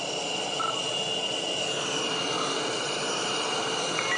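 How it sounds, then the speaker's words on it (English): Jet aircraft taxiing across the deck of an aircraft carrier, a steady broadband engine roar with a high whine running unbroken and fairly loud throughout. "Taxiing over to my little slot on the aircraft carrier."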